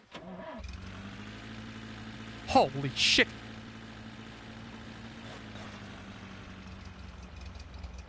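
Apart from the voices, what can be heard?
American-made V8 car engine starting and idling in video game The Long Drive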